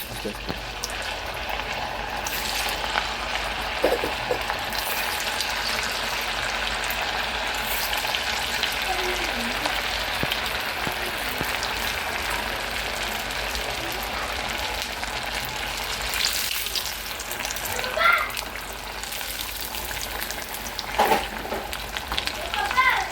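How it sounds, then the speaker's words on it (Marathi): Rava vadas, crisp semolina fritters, bubbling in hot oil as a steady, loud broadband sizzle that continues throughout, with occasional clinks and a voice speaking intermittently over the frying. "आता आपलं तेल तापलं आहे बघा तेल तापलं आहे त्याच्यानंतर आपण एक केलेले वडे आहेत ना हे आपण सर्व सोडून घेऊ"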